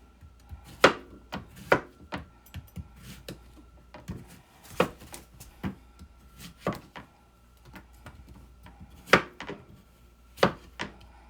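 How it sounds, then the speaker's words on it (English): A knife chops vegetables on a wooden cutting board for a lamb shank dish, sharp, close knocks landing in an irregular rhythm with short pauses between bursts. "So let's chop them up."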